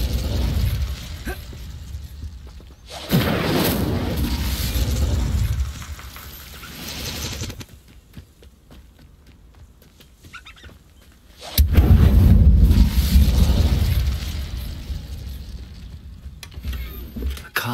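Incendio fire spell blasts from Hogwarts Legacy, two roaring, whooshing bursts of flame, each lasting several seconds with a sharp onset, separated by a quieter gap of faint ambience.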